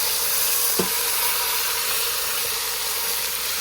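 Meat sears in olive oil in an Instant Pot. A steady, loud sizzling hiss runs throughout, broken by one short clink near the start, and no one speaks.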